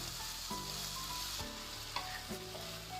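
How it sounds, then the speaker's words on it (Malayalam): Shallots and green chilies sauté in hot oil for a Kerala-style beef roast, with a steady crackling sizzle broken by a few scraping stirs of the spoon against the pan. "ഇനി ചെറിയ ഉള്ളി ഇട്ട് കൊടുക്കാം. പച്ചമുളക് ഇട്ട് കൊടുക്കാം. നന്നായിട്ട് വഴണ്ട് വരുന്നവരെ ഇളക്കി കൊടുക്കുക."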